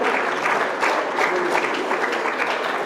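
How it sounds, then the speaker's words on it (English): A conference audience at a Nigerian youth gathering breaks into broad, dense applause, a steady wash of many hands clapping throughout a short burst. "Please give him a round of applause, ladies and gentlemen."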